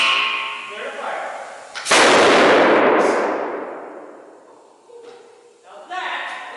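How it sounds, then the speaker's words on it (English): A large aluminum piece bursts from a huge electrical discharge, a single loud sharp blast that rings and decays over a couple of seconds, with voices before and after. "Now that is how you make an explosion."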